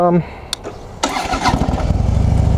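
A heavy motorcycle with a bigger engine starts up: a sharp click and a short crank, then the engine catches and settles into a loud, steady, throbbing idle close by. Faint talk comes at the very start.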